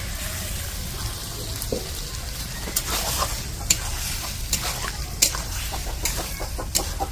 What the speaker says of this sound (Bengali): মাংসটাকে আবার কষতে হবে ভালো করে